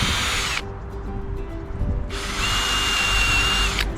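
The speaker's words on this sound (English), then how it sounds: "we're going to get our pilot and we're going to drill through" An Einhell power drill bores pilot holes through wood for a vertical herb planter: two loud, whining bursts, a short one and a longer one, separated by a quieter gap.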